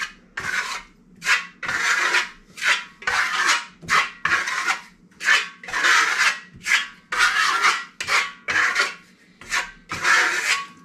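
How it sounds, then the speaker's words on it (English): Steel trowel spreading deep red Venetian plaster on a wall in random strokes, a series of about a dozen close scraping rasps, each a second or so long with short pauses between, no voices. "random movement of the trowel. I'm trying to make it as random as possible."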